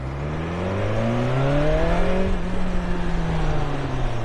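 A 2021 BMW S1000 XR motorcycle engine sweeps past close by, its loud note rising in pitch and then falling away as it passes, with steady road rumble underneath.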